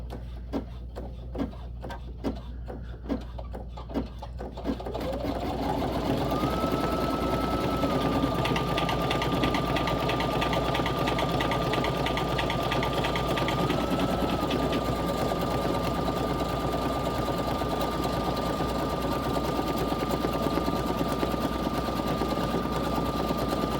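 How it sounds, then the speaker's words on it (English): A Baby Lock Flare embroidery machine starts up after a few ticking clicks and then runs a steady, fast mechanical whir with a constant tone as it sews an outline joining two layers of vinyl, loud and close. "it's going to sew the bottom vinyl to the top vinyl"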